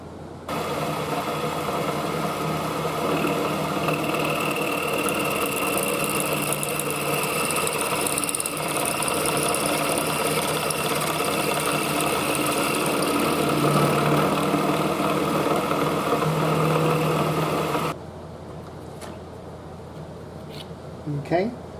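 A power tool machining a part of an antique Crosley Bandbox Jr radio for clearance, a loud steady whirring grind running nonstop for about eighteen seconds, then cutting off to a quieter pause with a few small handling clicks.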